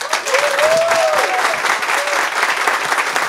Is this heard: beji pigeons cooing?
no